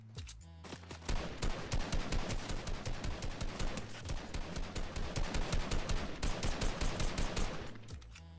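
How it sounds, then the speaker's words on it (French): Rapid bursts of automatic gunfire in a Fortnite match, dense and continuous for several seconds at a moderate distance, with a short gap midway before firing resumes, and no talking. "il y a des tirs là-bas, il y a des tirs"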